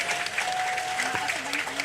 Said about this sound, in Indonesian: Mari sama-sama kita beri tepuk tangan yang gemuruh.